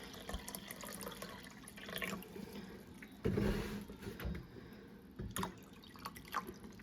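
Well water pours for a pickling brine in a soft trickle with faint drips and a brief fuller splash in the middle, quiet and close.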